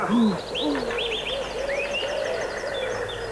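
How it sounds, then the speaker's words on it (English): Birds sing and chirp close by, with rising whistled phrases and a cooing call, clear over a quiet outdoor background. "All you can hear are the birds singing."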